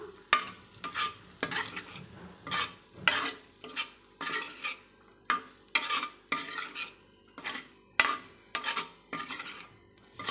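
Meal maker chunks coated in turmeric and chili powder frying over a medium flame, stirred with a utensil in repeated scraping strokes against the pan about once a second, over a soft sizzle and with no talk.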